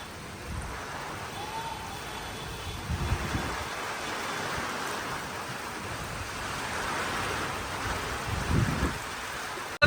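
Steady rushing rain with gusts of wind, broadband and continuous, with a few low thumps of wind buffeting nearby.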